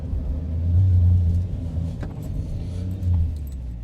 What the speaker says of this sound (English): You can hear the little engine behind you. thrumming away.